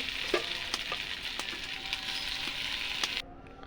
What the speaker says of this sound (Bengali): ঝাল পেঁয়াজটা অনেকটা ভাজা হয়ে গেছে এবার করলাগুলো দিয়ে দেব